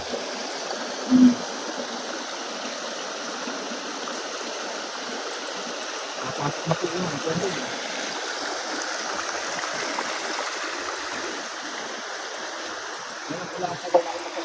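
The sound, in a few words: flowing stream water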